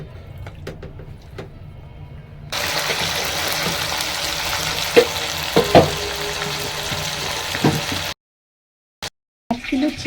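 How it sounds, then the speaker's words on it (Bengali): Chicken pieces marinated in salt and turmeric fry in hot oil, a loud steady sizzle that starts after a quiet opening and runs with occasional stirring scrapes before cutting out near the end. "আর এবার আমি এই তেলে ভেজে নিচ্ছি"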